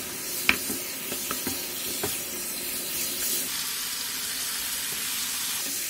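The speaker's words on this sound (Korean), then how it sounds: "돼지고기 앞다리살을 넣고 당근, 고추장, 고춧가루, 설탕, 매실액, 소주, 진간장, 물엿, 다진 마늘, 다진 생강, 후추를 넣어 센 불에서 양념이 골고루 섞이도록 볶아줘요" Pork shoulder sizzles on high heat in a pan with gochujang, chili flakes, garlic, ginger, carrot and soju, a steady close frying hiss broken early by a few scraping stirs, no voices.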